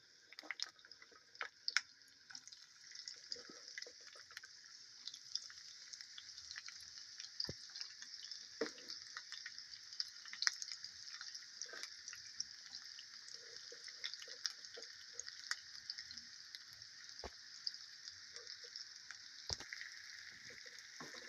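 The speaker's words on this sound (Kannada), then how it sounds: "ಇದಕ್ಕೆ ಒಳ್ಳೆ ಫ್ರೈ ಆಗಬೇಕು, ಕೆಂಪು ಕಲರ್ ಬರಬೇಕು." Onions fry in oil with curry leaves for a Mangalore-style dry prawn chutney, making a soft, even sizzle with scattered pops and crackles throughout, close by and fairly quiet, with no talking.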